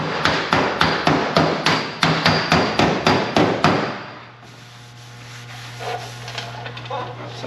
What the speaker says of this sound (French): Mais que fais-tu avec ton marteau?